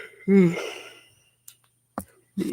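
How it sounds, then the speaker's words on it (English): A person gives one long, drawn-out voiced yawn that fades into a breathy exhale, followed by a few faint clicks and a short breath. "God, I'm freaking yawning."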